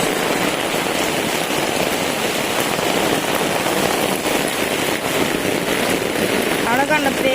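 Heavy rainfall roars in a constant, loud wash of hiss and splatter, with a faint voice briefly near the end.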